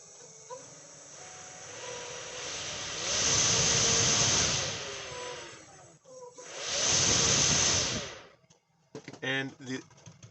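An electric surfboard motor on its low speed setting runs as a steady whirring drone with two louder hissing surges, then stops, followed by brief clicks and knocks.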